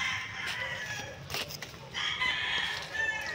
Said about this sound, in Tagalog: Ayan po yung aming isang manok na malaki.